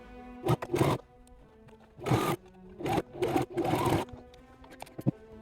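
Sewing machine stitching across the corners of a makeup bag: several short bursts of rapid mechanical whirring, close and fairly quiet, separated by pauses, with a small click near the end.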